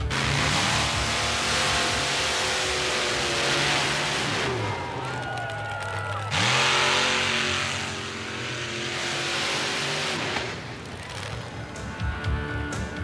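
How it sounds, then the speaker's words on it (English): A Chevy S10 Blazer funny car with a blown, injected 568 cubic inch Chevrolet engine running on alcohol races down the strip, its loud roaring engine rising and falling in pitch amid crowd noise and announcer-style commentary. "a Chevy S10 Blazer with a 568 cubic inch Chevrolet engine blown and injected on alcohol"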